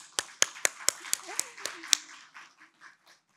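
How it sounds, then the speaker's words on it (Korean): Applause at a 2021 conference session on independent living and integrated care for disabled people: about eight crisp, evenly spaced claps, fairly faint, fading into a few softer scattered claps. "여러분들 힘차게 한번 박수 한번 보내주세요"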